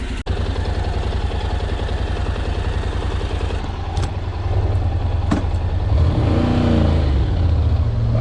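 A Honda NC750X motorcycle engine out on a ride, heard as a loud, steady, low, pulsing twin-cylinder thrum that swells near the end as the throttle opens, with a couple of brief clicks along the way.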